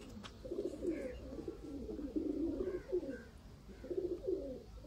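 Pigeons coo repeatedly in low, throaty, rolling phrases at a Sialkot pigeon-keeping loft in Pakistan, moderately close and steady across the stretch with short pauses between bursts.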